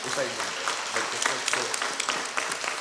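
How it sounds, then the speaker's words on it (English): Audience applause for the young dancer Shrutika at a dance recital, a dense, steady patter of many hands clapping that holds for the whole stretch with a faint murmur of voices. "Give her a big round of applause."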